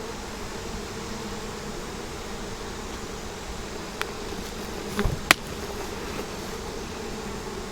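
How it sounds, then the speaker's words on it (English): Honey bees gathered in a cup for a varroa mite test hum steadily and close, a continuous insect drone with a few brief clicks and taps near the end. "That gets you your 300 bees in the cup."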